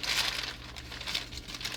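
A large plastic tobacco bag is handled close up, giving continuous soft crinkling and rustling over a low background hum, with no one speaking.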